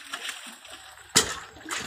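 Water splashes as a vessel is dipped into an old village well in the rainy season, one sharp close splash midway amid faint background voices and soft sloshing.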